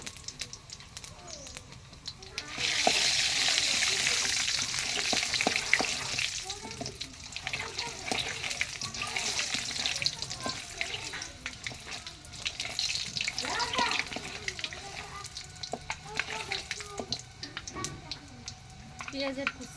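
Panch phoron spices and chopped onion fry in a pan in a home kitchen, a steady sizzle rising after a few seconds and continuing with stirring clatter, while someone talks over it throughout.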